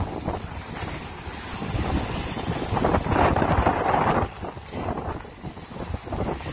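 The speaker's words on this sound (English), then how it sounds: "It's been very windy here." Steady wind buffets the microphone with a broad, rumbling roar that swells and eases, mixed with faint water and surf sounds nearby.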